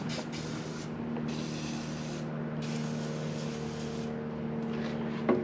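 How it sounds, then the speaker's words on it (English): Aerosol sprayed into the spark plug holes of an engine that had a rat nest inside, heard as three close hissing bursts of about a second each, with a steady low hum underneath throughout. "We're gonna have to spray this one down"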